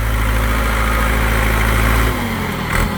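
Loud, close engine of a 6610 4x4 tractor in first gear chugging steadily with a deep rumble, then the pitch shifts and the revs drop near the end.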